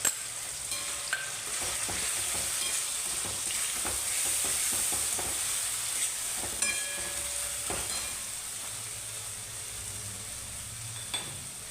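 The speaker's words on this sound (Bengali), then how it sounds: "এখন দিয়ে দেবো ওই যে ভাজা মশলাটা পেস্ট করেছিলাম সেইটা" Spice paste and fried tomatoes for a fish curry sizzle steadily in a pan while a spoon scrapes and stirs with repeated clicks and knocks, close up and continuous, with no talking.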